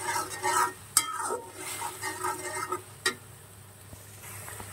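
Onion, tomato, garlic and ginger pastes with ground coriander being stirred in a pan for a paneer vegetable curry, soft scraping and wet stirring with a few sharp utensil clicks against the pan, close and alone.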